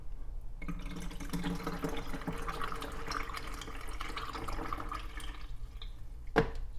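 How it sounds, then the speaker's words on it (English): Water is poured into the reservoir of a DeLonghi COM532M coffee maker to flush out descaler, a steady close trickle and splash that fades out with a short clunk near the end. "I'll just use the rest of the water to flush that down."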